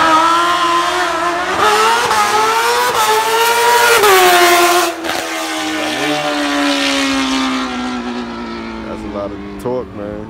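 A race car engine on high-burning fuel revs loudly and close by, its pitch climbing and sweeping in repeated surges before easing into a lower, steadier drone.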